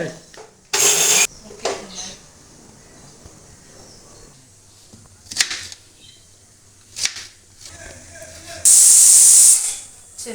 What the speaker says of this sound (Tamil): மட்டன் சூப் வந்து ஒரு அஞ்சு விசில் ஆறு விசில் கிட்ட வந்துருச்சு